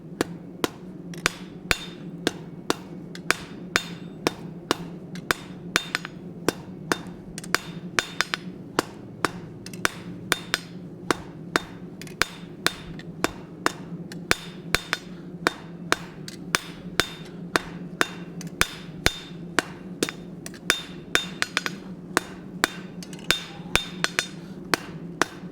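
Blacksmith hammering hot metal on an anvil, a long run of sharp ringing strikes at a fairly steady pace, each blow clanging close and loud over a low hum.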